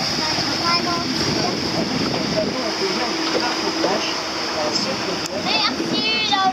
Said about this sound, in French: il y a des vagues de tempête.